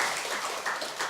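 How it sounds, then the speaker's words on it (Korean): A church congregation applauds during a Sunday morning worship service, a steady wash of many hands clapping at moderate volume with no voices over it. "우리 다시 한번 우리 하나님 앞에 영광의 박수를 드리겠습니다"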